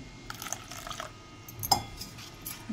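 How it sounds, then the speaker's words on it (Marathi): A faint trickle of water pours into varai dosa batter with small wet splashes and a light clink or two, quiet and close, with no talking. "थोडंसं पाणी घालून घेते मी"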